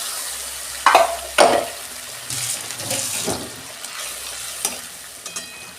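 Spice paste for a fish curry stir-fried in a hot pan, a steady sizzle with two sharp scrapes near the start and softer scraping and stirring strokes throughout, close and moderately loud.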